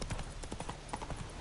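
Quick rhythmic hoofbeats of Roach, the horse in The Witcher 3, galloping close and clear in a short burst with no talking.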